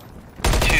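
A single loud gunshot in a ranked online shooter game bursts in after a quiet moment, with a ringing tail that carries to the end.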